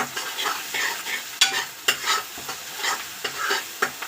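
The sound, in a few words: onion, garlic and chili paste frying in oil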